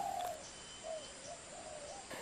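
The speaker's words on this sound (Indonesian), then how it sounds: "seni suara alam yang dihasilkan oleh burung perkutut" Zebra dove (perkutut) cooing at a bird song contest in Yogyakarta: soft, faint coos in a few short phrases against a steady background hiss, with no voices.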